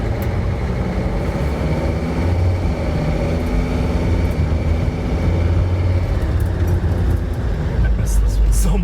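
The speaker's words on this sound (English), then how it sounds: "It's got some rumble strip noise now" T1N Sprinter van running over rumble strips, a close continuous low rumble and road roar with a steady droning texture inside the cabin, with someone talking over it.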